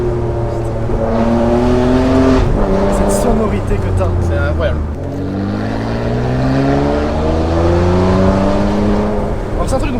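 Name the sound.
Ferrari 599 GTB V12 engine sound while driving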